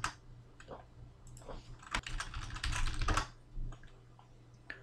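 Computer keyboard keys tapped while entering a password on a Windows 10 PC, quick irregular clicks in short bursts, close and moderately loud, with a low steady hum beneath.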